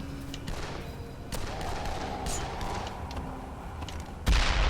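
Muffled booms and thuds from explosions in the video game Dead Island pop irregularly against a low rumbling background, ending with one sudden loud blast.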